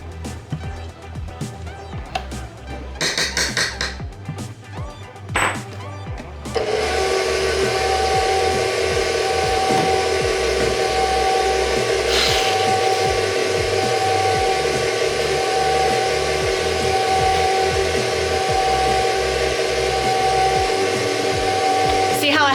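Electric mixer on low speed beating red velvet cake batter, a steady loud whirring drone that starts abruptly after several seconds of clattering kitchen sounds and runs continuously to the end.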